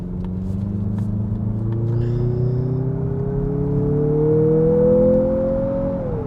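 A 2023 Mazda CX-50 SUV engine climbs steadily to high revs under acceleration, its smooth rising hum and induction whir heard from inside the cabin, with a brief drop at the end as the next gear engages.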